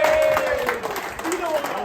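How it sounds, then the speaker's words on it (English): Crowd applause for golf winner Peter Prinsloo at Woodhill, a short burst of clapping heard under a voice talking over it. "Round of applause for Peter Prinsloo."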